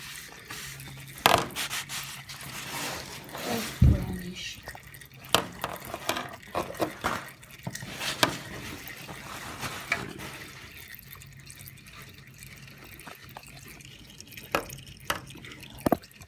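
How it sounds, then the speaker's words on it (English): Old black oil drains from a Kawasaki Vulcan S motorcycle during an oil change, trickling and dripping into a catch pan with scattered splashes and metallic plinks, close and fairly quiet. "it's almost all completely drained out. Do let it finish draining."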